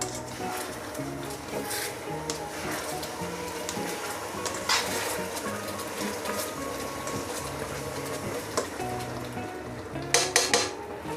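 Metal utensils clatter and scrape against a pan as chopped green beans go into a stir-fry of chopsuey, a steady busy kitchen clatter with a few louder knocks near the end.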